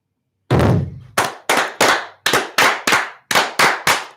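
Ceremonial small cannons fired in a toast go off in a loud ragged volley of about ten sharp booms, each ringing briefly, with the first blast heaviest.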